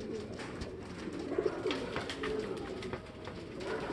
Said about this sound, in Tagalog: Tol Andre, tingnan mo dibdib ng ibon mo